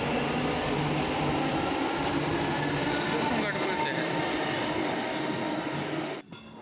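A Bangalore metro train runs along the line with a loud, steady rumble and hum that holds unbroken for several seconds, then drops away sharply at the end.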